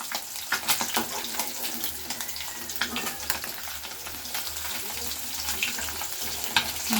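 Surma fish frying gently in a pan, a continuous close crackling sizzle with occasional utensil taps, over soft pulsing low music in the background.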